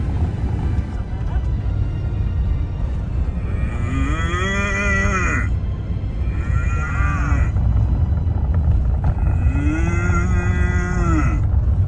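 Cows moo three times in long, drawn-out calls on a beach at a wild-camping spot in winter, heard over steady wind and wave noise, with each moo rising and falling in pitch.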